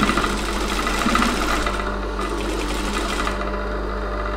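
A sewing machine stitches fabric for a prayer mat cover, running with a steady, continuous mechanical whir close by, with no talking.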